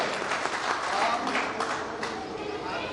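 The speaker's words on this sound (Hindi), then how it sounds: "तालियों से स्वागत करें" Audience applause welcoming alumni at an alumni association gathering, a dense steady wash of clapping from a large crowd, loud and continuous throughout.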